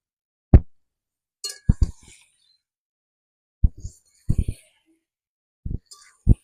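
A metal utensil clinks against a pan while chicken is stir-fried with ground coriander, cumin and sugar, giving sharp, separate knocks in small clusters with quiet gaps between.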